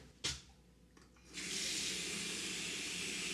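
A short knock, then a sink tap opens and water runs in a steady, close hiss that continues to the end.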